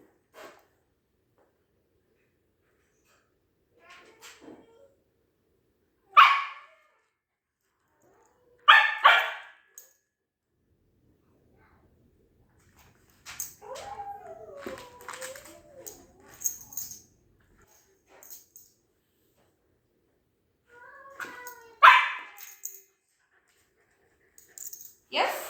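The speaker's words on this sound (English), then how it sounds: "As of now, I'm ignoring the barking." A dog barks in scattered single and double barks indoors, loud against quiet gaps, while a person talks quietly at times between the barks.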